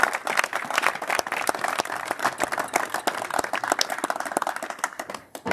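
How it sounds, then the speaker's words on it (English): Audience applause at an awards gathering, a steady patter of many hands clapping for several seconds, moderately close, before tapering off. "let's give a round of applause for that"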